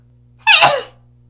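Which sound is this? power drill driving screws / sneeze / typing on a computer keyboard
sneeze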